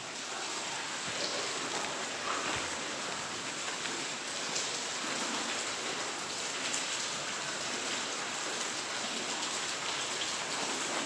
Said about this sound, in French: c'est qu'il a dû bien pleuvoir